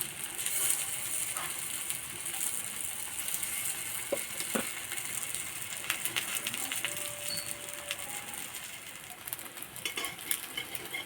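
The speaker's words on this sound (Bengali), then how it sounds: "হালকা করে একটু ভেজে নেব" Food fries in white oil on a hot griddle, a steady close sizzle running throughout with occasional clinks of a utensil against the pan.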